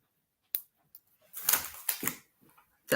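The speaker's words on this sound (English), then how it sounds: "I was just typing to make sure" A few sharp clicks followed by a brief flurry of keyboard typing, close and moderately loud, with no voices.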